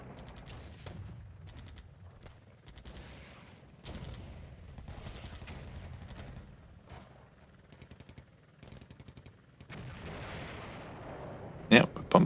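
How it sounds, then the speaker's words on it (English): Artillery bombardment rumbles in the Cold War wargame Flashpoint Campaigns, with repeated distant booms and gunfire in uneven bursts, ending in a few sharper, louder blasts. "Yeah, we're bombarding the objective"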